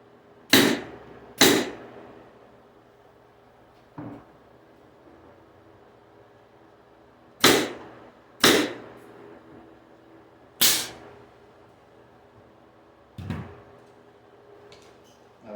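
Nails driven into a wooden hanger rail while building wall cabinets: sharp, loud percussive snaps, some in quick pairs and others spaced seconds apart, with quiet between them.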